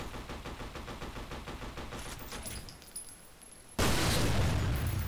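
Rapid automatic gunfire in the shooter game F.E.A.R. Perseus Mandate rattles in a steady stream of close, loud bursts, then gives way to a sudden, louder wash of noise near the end.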